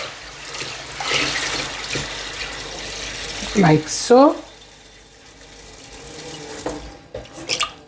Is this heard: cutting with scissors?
no